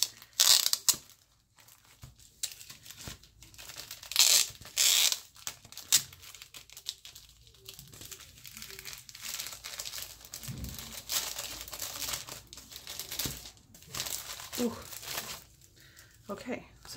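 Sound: opening a paper gift package

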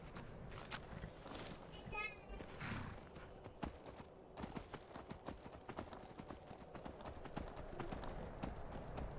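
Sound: horse galloping hooves in Skyrim video game

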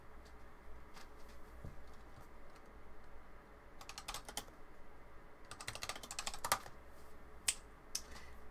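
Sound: typing on a new mechanical keyboard with linear switches

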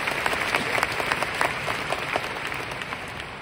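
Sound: audience applause

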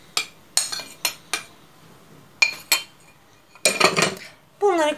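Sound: mixing profiterole ingredients in a bowl

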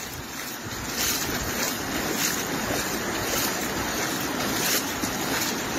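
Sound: flooded river water rushing under a bridge

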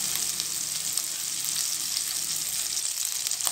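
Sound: tomato and spices frying in oil

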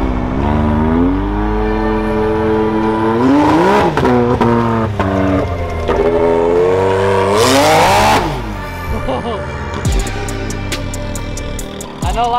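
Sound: truck engine revving, turbo sound

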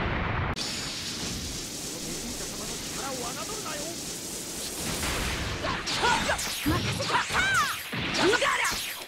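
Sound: fireworks effect in a video game

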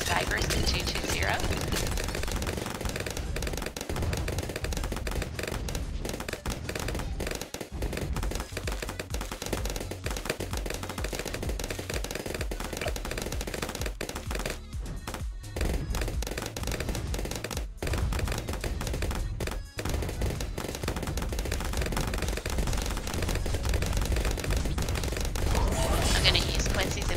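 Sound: sniper monkeys firing in video game Bloons TD6

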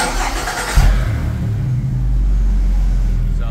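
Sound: GM Gen V engine starting and running

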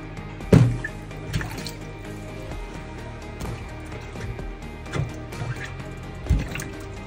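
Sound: water draining down a sink drain

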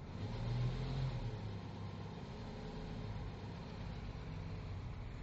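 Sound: Jeep Wagoneer engine cranking and starting

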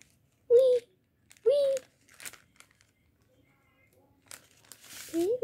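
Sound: opening paper dress-up doll package

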